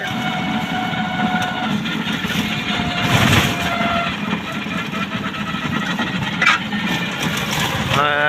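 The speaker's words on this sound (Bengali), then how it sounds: "এই যে দুটা মোটরসাইকেল গেল" Motorcycles pass along a remote, unlit road in the Madhutila-Gazni hills after dark. Their engine drone swells and fades over a steady outdoor background, with faint voices nearby.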